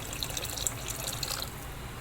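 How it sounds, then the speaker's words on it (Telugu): Water is poured lightly into a cooking pan of dakkus, a tomato-based sauce, with a soft, steady trickle and faint drips for about two seconds and no talk. "జస్ట్ లైట్గా వాటర్ వేసుకోనండి."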